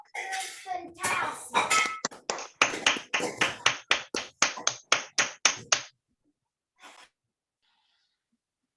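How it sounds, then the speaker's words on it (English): An online audience unmutes after a talk and claps: a rapid run of separate, close handclaps and snaps for several seconds, with a brief spoken word at the start, then a single faint clap after a pause. "let's all unmute and clap and thank Lisa for a great talk"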